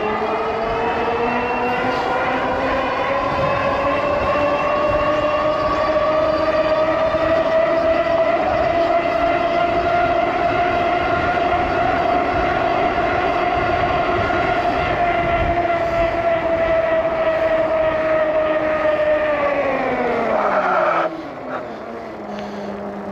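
A Furious Road Warrior Ultimate e-bike ridden flat out on dual motors: a loud, sustained high-pitched motor whine over steady rushing wind that holds near-constant pitch for about twenty seconds, then drops and fades as the bike slows.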